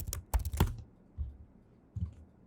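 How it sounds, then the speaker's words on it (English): A computer keyboard clicks as a password is typed in, a handful of close, distinct keystrokes spaced unevenly with quiet gaps between them. "I just need to type in a password for my user"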